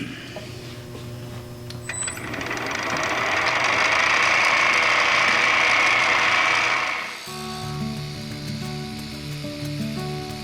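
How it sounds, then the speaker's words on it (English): A skew chisel taking planing cuts on a wooden mallet spinning on a wood lathe: a loud hissing, whooshing cut swells over the steady motor hum for several seconds, then stops, leaving only the lathe's running drone. "I want to get my skew chisel and do some planing cuts in here."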